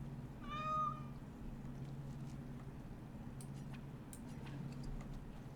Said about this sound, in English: Who's the pretty kitty?